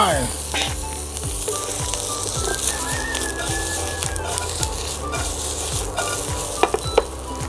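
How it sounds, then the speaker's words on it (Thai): Pork belly sizzles and fries steadily in a hot pan for pork belly stir-fried with salted egg, with clattering stirring and scraping of a utensil throughout, fairly close and continuous. "แล้วผมใส่ หมูลงไป"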